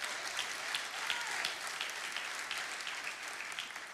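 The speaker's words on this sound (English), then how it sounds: "let's give the Lord a clap offering" A church congregation gives a round of applause, steady crowd clapping with scattered sharper claps that carries on evenly for several seconds with no voices over it.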